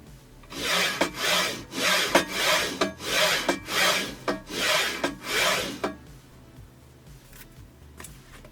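A mechanical part is slid back and forth against a rough contact surface, giving about nine rhythmic rasping strokes, loud and close, that stop after a few seconds and leave a quiet background.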